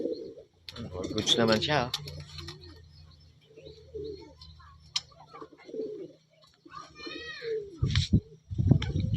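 Racing pigeons coo softly in a loft at Muñoz, Nueva Ecija, nearby and intermittent, with someone talking over them through much of the scene.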